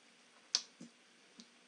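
A computer mouse clicks on a menu option in WinTask automation software, giving one sharp near click followed by two or three softer ticks, faint and alone in a quiet room.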